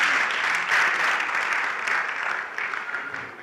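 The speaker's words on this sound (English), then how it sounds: "Can we clap for that very well?" Audience at a youth fellowship boot camp clapping together, a brief, even patter of many hands that fades slightly toward the end.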